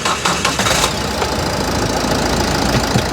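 A used yellow-board car's engine runs steadily and loud in a Bangalore used-car lot, a continuous rough mid-range drone with some knocking texture throughout, with no talk over it.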